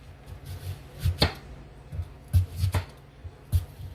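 A knife chops an onion into thin slices on a cutting board, the onion following earlier-chopped peppers for a blade steak dish: several sharp, close knocks in an uneven rhythm, some in quick pairs, with no talk.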